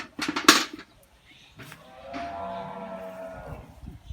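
A Jersey cow on a farm gives one long, low moo while being fed, close and clear, after a brief clatter at the start.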